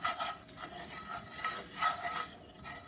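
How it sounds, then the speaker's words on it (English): Flour being stirred into softened vegetables in a pan, heard as a dry scraping rasp of spoon against the pan in two or three strokes, close and moderately quiet, with no talking. "Next, we're going to add in a 1/2 cup of all-purpose flour and stir that in"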